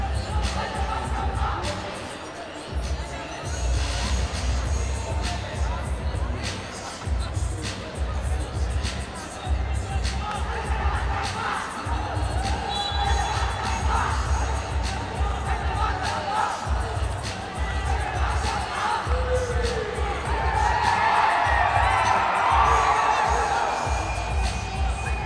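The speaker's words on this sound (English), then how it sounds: "The crowd is loving every second of this." Crowd noise at a 3BL three-on-three basketball game in Chennai, a steady roar of cheering and shouting voices, with a louder swell of whoops near the end.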